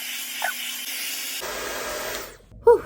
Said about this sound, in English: I've been diffusing for about 6 minutes now